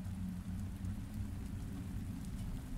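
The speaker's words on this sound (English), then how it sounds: "It was raining that day, just like now." Steady, quiet rain falls, with low thunder rumbling far off beneath it and no voices.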